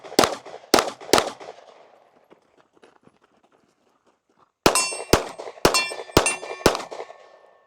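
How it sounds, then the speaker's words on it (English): On a range, gunshots from a red-dot-sighted firearm ring off steel targets with loud, sharp clangs: three quick hits, a quiet pause, then five more evenly spaced hits with a bright metallic ring. "He got 3 shots on the steel."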